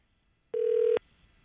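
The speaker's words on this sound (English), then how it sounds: "The phone is vibrating." A mobile phone vibrating inside a box gives a single short, steady buzz of about half a second, loud and close against a quiet background.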